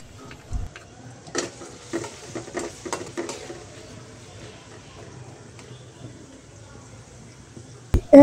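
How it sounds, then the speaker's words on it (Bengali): A large chopped onion fries in oil in a pan, with a soft sizzle under intermittent clatter and scraping of a utensil against the pan, close by and fairly quiet. "এরপর দেবো একটা বড় সাইজের পেঁয়াজ কুচিটা দিয়েও ওই তেলের সাথে এভাবে ভেজে নেব।"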